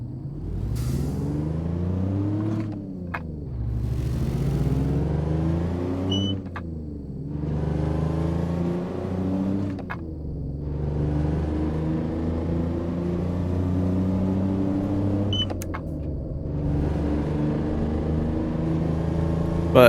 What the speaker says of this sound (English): we're definitely going to have to get this engine checked. That rattling sound doesn't sound good